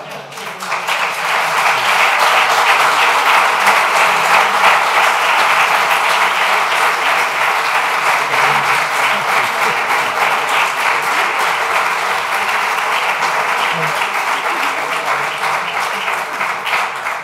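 Sustained applause from a conference audience in Oviedo, a dense, loud wash of many hands clapping that holds steady for the whole stretch and tapers only slightly near the end, with no clear talk over it.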